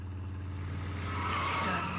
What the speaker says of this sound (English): Don't drift in the turns.